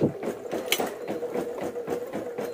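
A sewing machine stitches a boat neck blouse, running in a fast, even mechanical chatter of needle strokes, close and steady throughout with no talk.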